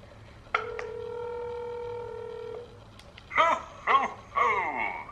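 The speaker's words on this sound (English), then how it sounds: "Calling Santa Claus again, voice call." A phone places a voice call to a Santa Claus line: a steady dual tone from about 0.5 to 2.6 seconds, clear and fairly close, followed by a jingly tune through the earpiece.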